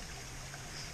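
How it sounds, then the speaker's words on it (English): A fresh mountain stream in the Drakensberg runs into a water bottle with a steady, soft rushing trickle, close by and unbroken for a second. "There's a fresh flowing water stream here, so we're filling up the water bottle with that fresh water."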